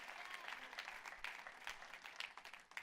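A church congregation claps together in praise during a Spanish-language worship service, a dense, steady patter of applause that continues throughout without a break.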